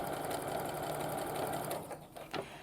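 A sewing machine stitching quilt block pieces for Sawtooth Star and Log Cabin blocks runs steadily with a fast, even whirring rattle, then slows and stops with a few clicks and knocks near the end.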